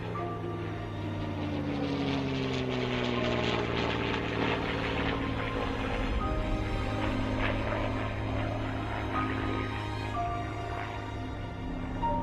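A Supermarine Spitfire flies in, its propeller engine making a steady, fairly loud drone that holds throughout without speech.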